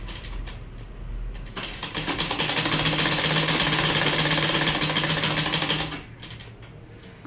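A sewing machine stitching sleeves runs in a fast, steady mechanical rattle that builds up loudly, holds for several seconds, then stops, leaving a quieter mechanical tail.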